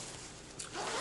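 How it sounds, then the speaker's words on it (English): A zipper on a Mountain Hardwear Ghost Whisperer jacket is pulled in one quick, close stroke, ending in a brighter rising zip. "It has a good zipper. The zipper works fine every time."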